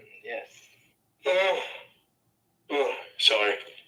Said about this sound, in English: A little yawning there.